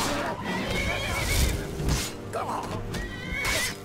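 A horse whinnies loudly and repeatedly amid Skyrim game action, with hooves clopping and a voice calling out over it.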